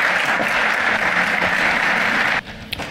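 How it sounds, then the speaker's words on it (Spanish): Loud, sustained applause from an audience at a talk on pest and vector control in the city, a dense steady clatter of clapping that drops off suddenly near the end, leaving a few scattered claps. "Un fuerte aplauso."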